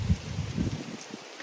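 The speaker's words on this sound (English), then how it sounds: "It's very windy, so I hope you still can hear me." Wind gusts outdoors in a subtropical food forest, buffeting the microphone in low, rumbling bursts that fade toward the end.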